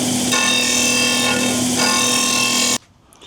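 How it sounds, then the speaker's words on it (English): A disc sander grinds small wooden pieces for a toilet paper dispenser with a loud, steady whine and hum that stops abruptly near the end. "now when I go onto the disc sander, once everything is even, it should be exactly in the right spot"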